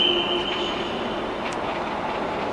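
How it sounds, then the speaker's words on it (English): A Danish passenger train rolls by at Hamburg Hauptbahnhof with a steady broadband rumble and a thin high whine, moderately loud and continuous, with a brief squeal midway. "It's a Danish train."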